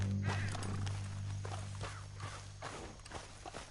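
Horse hooves clip-clopping at a walk in the video game Red Dead Redemption 2, steady irregular thuds over a low constant ambient hum, moderately quiet and close.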